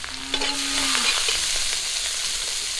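Garlic cloves, green chilies and chopped onion fry in hot oil with a steady, close sizzle and some stirring scrapes, as in cooking a spinach and sea fish curry.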